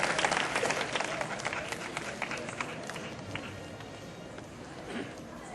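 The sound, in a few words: devotees clapping applause at calendar release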